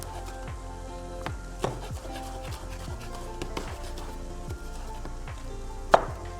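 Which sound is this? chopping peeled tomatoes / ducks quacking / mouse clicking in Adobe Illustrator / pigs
chopping peeled tomatoes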